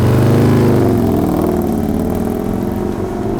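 GP race motorcycle engine fitted with a billet aluminum Feuling intake, a loud, close, throaty rumble that holds steady and eases off slightly over a few seconds.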